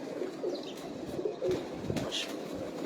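A pigeon of an old breed coos in low, repeated throaty calls at moderate distance, with faint higher chirps and steady background noise, and no talking.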